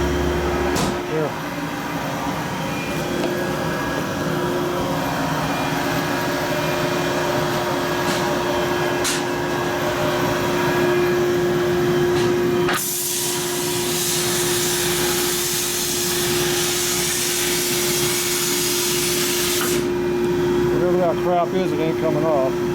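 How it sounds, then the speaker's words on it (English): Media blasting a piston with its rings still on, from a 2011 Harley Road Glide twin cam engine: a continuous loud hissing roar of the blaster over a steady compressor hum, with a brief surge of harsher blast noise partway through. "Okay, so we want to blast it with the rings on."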